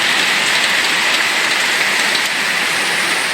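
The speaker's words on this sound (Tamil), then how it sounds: "திருப்பத்தூர் சுற்றுவட்டார பகுதிகளில் சூறைக்காற்றுடன் கனமழை பெய்ததால் சாலைகளில் மழைநீர் பெருக்கெடுத்து ஓடியது." Heavy rain driven by strong winds, with rainwater flooding roads around Tirupattur, makes a dense, constant hiss, loud and close, with no voices.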